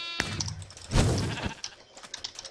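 A sheep bleats in Minecraft on the Mineplex server, one short bleat stacked on clicks and keyboard taps, followed by a brief burst of noise and scattered game sounds.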